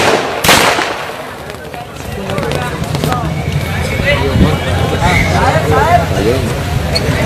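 Firecrackers burst at an outdoor political rally, a sharp loud crack near the start followed by scattered pops under a dense hubbub of crowd chatter and shouting voices.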